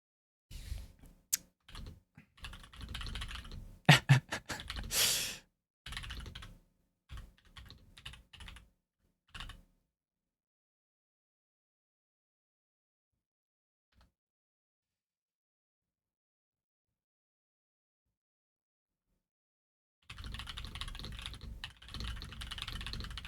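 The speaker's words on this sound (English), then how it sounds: "are you typing?" Someone types on a computer keyboard in close, quiet bursts of rapid key clicks for several seconds, then a long silence, then steady typing starts again.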